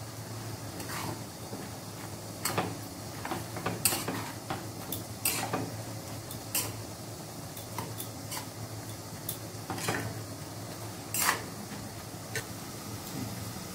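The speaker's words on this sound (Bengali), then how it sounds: "এবার আমি কিছুটা হলুদ দিয়ে দিচ্ছি। এবার ভালোভাবে নেড়ে দিচ্ছি এগুলোকে।" Bottle gourd with turmeric is stirred in a pan, and a spoon scrapes and knocks against the metal in irregular taps and clinks over a low, steady frying hiss. The sounds are close and moderately quiet, and nobody speaks.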